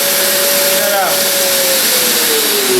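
An electric sander fitted with Abranet mesh sandpaper runs loudly and steadily at close range, its whine shifting pitch slightly as it works on a wooden Japanese maze box puzzle.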